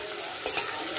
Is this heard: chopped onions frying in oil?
yes